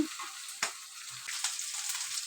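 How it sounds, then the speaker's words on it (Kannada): Chopped kalmi saag greens fry with a soft, steady sizzle. There are a couple of quick scrapes from stirring in this brief moment. "ಇವಾಗ ಫ್ರೈ ಮಾಡ್ಕೊಳ್ಳೋಣ ಬನ್ನಿ"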